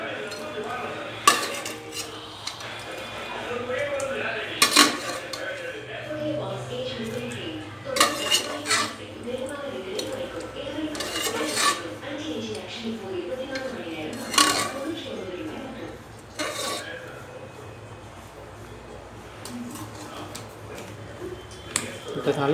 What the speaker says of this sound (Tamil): இப்போ நல்லா கிளறி விட்டு